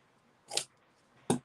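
Scissors snip through paper twice, two short crisp cuts about a second apart, close and fairly quiet.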